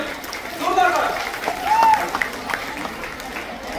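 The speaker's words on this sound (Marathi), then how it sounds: "जोरदार टाळ्या सर्वांसाठी." Audience applause fills the space at a Lokmat Sakhi stage event, steady clapping with crowd noise throughout and voices or cheers mixed in over the top.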